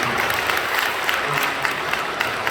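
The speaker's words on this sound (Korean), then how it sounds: "박수 한번 해주시죠" Warm, steady applause from a church congregation at a Sunday service, welcoming visiting guests: a continuous wash of clapping with a few sharper individual claps standing out.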